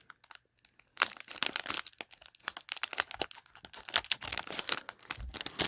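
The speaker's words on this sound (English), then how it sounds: "press everything downwards so when you start cutting, you don't accidentally cut into anything" A plastic LEGO minifigure bag crinkles and crackles as it is pressed and cut open, a close, busy run of small irregular rustles and snaps with no talking.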